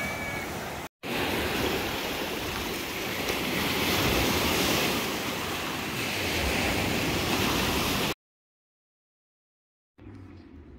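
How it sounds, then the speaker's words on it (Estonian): Large sea waves crash on a rocky shore with a loud continuous roar and surging wash, mixed with wind buffeting the microphone, cut by brief gaps of silence. "Lained on veel suuremad kui eile öösel."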